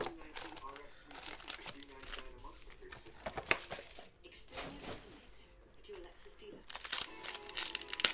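Close crinkling and tearing of foil trading card pack wrappers, 2018-19 Panini Revolution Basketball, repeated in short bursts, with a voice talking between the rips.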